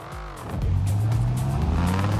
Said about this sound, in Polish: to jest ta V10 z Vipera, ja się zastanawiam. Y, czemu on ma taki dźwięk?